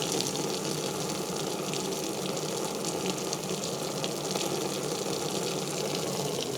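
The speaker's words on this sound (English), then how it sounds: "So that's where the water is getting in." Water trickling in through ventilation slits, a steady, even wash of running water heard close and continuous with no talk.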